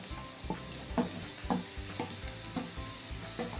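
Chopped tomato and softened onion being stirred together in a frying pan for a dry broccoli dish, with a soft, evenly paced scrape of the spatula about twice a second over a low, steady sizzle. No voices.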